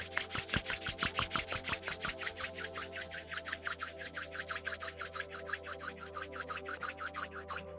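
Palms rub briskly together during a yoga cool-down, a fast steady back-and-forth swishing repeated dozens of times, close and fairly loud with no talking.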